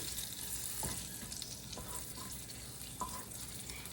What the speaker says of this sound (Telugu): ఇప్పుడు ఇది వేగిపోయిన తర్వాత ఆ ప్యాన్లో నూనెలో కొంచెం వేగిపోయిన కూడా ఉంటుంది కదండి